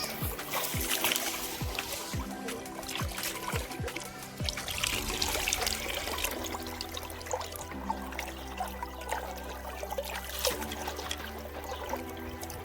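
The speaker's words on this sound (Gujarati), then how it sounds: "અને પાણી આવશે આપણે ભૂંગળો ધોઈ નાખશું" Running water trickles and splashes steadily for the whole stretch, with faint clatters of drumsticks (moringa pods) being rinsed beneath the flow.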